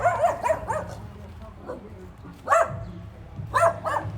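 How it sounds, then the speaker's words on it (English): Small dogs bark in Japan in quick bursts of sharp yaps, a cluster at the start and more volleys later, mid-distance and fairly loud against a quiet street background. "Little dogs be barking, man."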